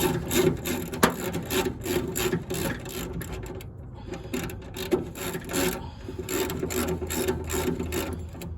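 A socket wrench loosens the nut on a car subframe bolt, producing rapid repeated ratcheting clicks in close bursts with brief pauses between strokes, no talking.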